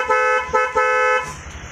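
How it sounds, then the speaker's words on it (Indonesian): A Black Twin dual-tone horn fitted to a Honda Vario scooter sounds three short blasts, the last held longest, loud and close, with a faint engine hum left behind. "pakai Black Twin ya, double tune juga. Kita coba suaranya. Ini kita coba klaksonnya."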